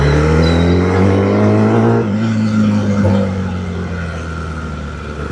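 A Kawasaki ZX-10R sport motorcycle engine revs loudly and steadily while being ridden on a road, its pitch sliding up then easing off as the throttle changes, alone without talk.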